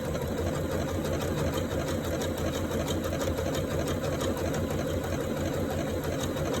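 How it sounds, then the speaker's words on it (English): A Janome Atelier 3 sewing machine runs a steady, fast stitching whir while stay stitching to finish an embroidered leaf, loud and continuous with no talk. "So when I now hit the stay stitch button, it's going to finish off that leaf"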